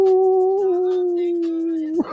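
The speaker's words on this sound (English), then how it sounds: "is howling at the moon." A dog howls in one long, steady, close and loud wail that holds for about two seconds before breaking off abruptly.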